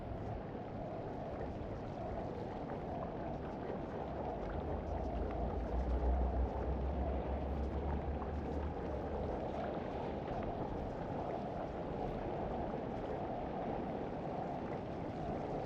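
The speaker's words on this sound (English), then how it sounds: "if you can hear that sound, it's like a gurgling sound. This tells me the vents are about to open" Vents about to open in a video game, giving a steady low gurgling, rushing rumble that swells slightly midway and holds at an even level throughout, with no voices.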